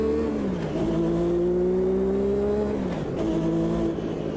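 A turbo racing car engine in Automobilista 2 at Road America, on cold tires, roars and climbs in pitch as it accelerates, drops briefly at a gear change, then pulls hard again, loud and close.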